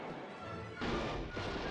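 Anti-tank weapon firing in the wartime strategy game Panzer General II, two heavy blasts close together, loud and booming over a dense game background with no talk.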